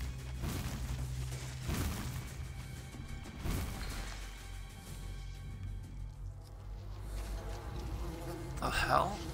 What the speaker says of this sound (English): Sounds like wasps.